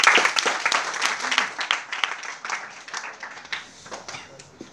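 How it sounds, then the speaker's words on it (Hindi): Audience applause greets a singer after a live song performance, lively clapping with distinct sharp claps that gradually ease in loudness over a few seconds. "एक बार जोरदार तालियां बजा दी है गौरव जी की"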